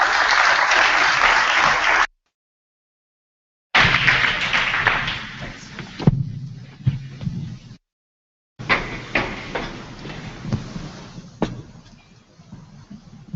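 An audience at a live design event applauds speaker Kai-Uwe Bergmann of Bjarke Ingels Group. The clapping is loud at first and then fades in broken stretches, with short dropouts and a few thumps.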